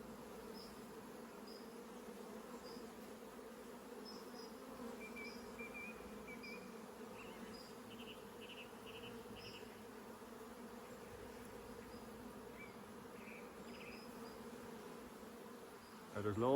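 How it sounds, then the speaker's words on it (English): Honey bees hum in a steady low drone, agitated after their queen is removed during a transfer from a nuc to a hive. The swarm buzzes softly and continuously, with occasional brief higher flyby tones from individual bees close by. "Now I can hear those bees there, they're getting a little bit noisier, and that's because they can't smell the queen."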